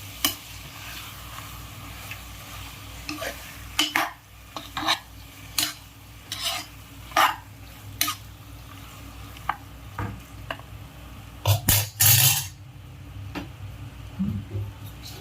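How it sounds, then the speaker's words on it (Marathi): Shark (mori) meat is stir-fried in a pan for a Malvani curry, with sporadic scraping and clinking of a spoon against the pan over a soft, continuous sizzle. "चांगली परतून घ्यायची अशी"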